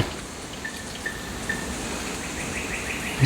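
Faint, distant birds call in a few brief, thin chirps spread across a very quiet outdoor stillness, with no other sound close by.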